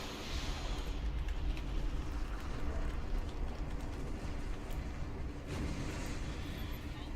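Explosion in the space combat game Star Trek Online, a loud sustained rumbling blast with heavy low-end roar and crackling debris, filling the full length of the clip at steady intensity.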